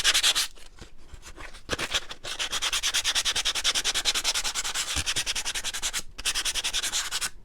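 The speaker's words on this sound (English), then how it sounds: "I'm just brushing along the edges here, just to add in some distressing" Dry brush dragged repeatedly along the painted edges of a wooden snowman shelf to distress the finish, a steady scratchy rubbing with quick rhythmic strokes and a few brief pauses, close and fairly loud with no talking.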